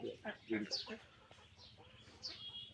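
Chickens and ducks kept at a house cluck in a few close, uneven bursts, with a faint background hum between the calls.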